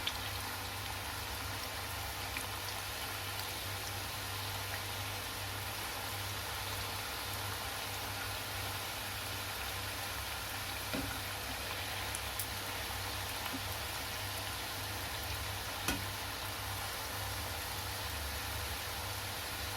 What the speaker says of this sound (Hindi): इस तरह से हमें धीरे धीरे गोल्डन ब्राउन होने तक हम इसको फ्राई करेंगे।